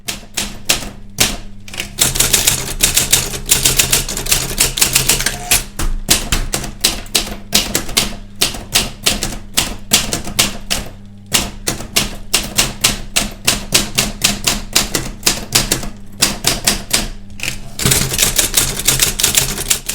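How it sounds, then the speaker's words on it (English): A typewriter linked to a second machine as a copy typewriter hammers out text in fast bursts of sharp, loud keystrikes, separated by brief pauses and carriage movements, close and alone. "So behold, the copy typewriter."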